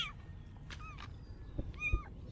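Small stray kitten meowing several times in thin, high cries, fairly close, with faint background rumble and no talk.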